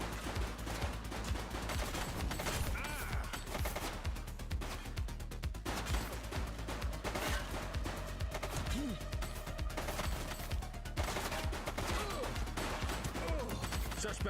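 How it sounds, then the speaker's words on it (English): Gunfire during a police shootout in The Precinct, with bursts of rapid shots crackling fairly faintly through a busy mix of game sounds, music and voices. "He's shooting."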